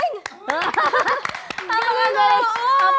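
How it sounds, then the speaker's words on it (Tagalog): Hand clapping at a casual indoor gathering, several quick claps scattered among children's chatter and laughter, with voices talking and chuckling throughout. "Palakpakan mo na, palakpakan."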